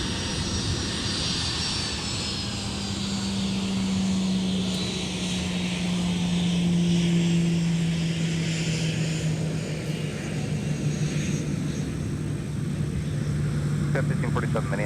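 Sun Country passenger jet taxiing at MSP airport, a steady, continuous engine drone with a low hum, heard at some distance under airfield ambience.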